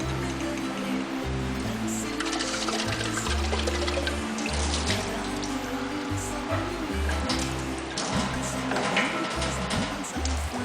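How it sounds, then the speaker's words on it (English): Tap water runs steadily as baby bottle parts and tongs are washed under it, with clattering plastic bumps and splashes close by throughout. "wash each part separately along with other equipment such as tongs in running water"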